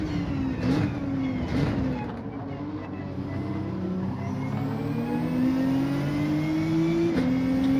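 Race car engines droning steadily at Barcelona-Catalunya in Gran Turismo 7, a continuous close engine tone rising and falling with shifts and acceleration, with commentary speech over it.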